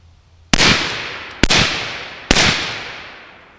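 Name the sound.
rifle shots from a 10.5 LMT with Turbo K suppressor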